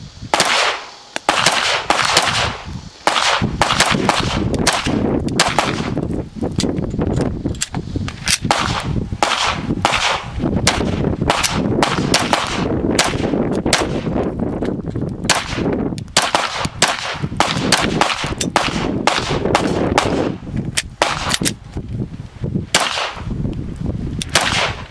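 Pistol gunfire on a defensive handgun training range, loud sharp cracks fired in rapid, closely spaced strings that run almost without pause for the whole stretch.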